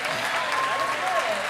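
Audience applause breaks out in a studio-style talk show setting, a continuous mid-level clatter of many hands with some faint voices mixed in underneath.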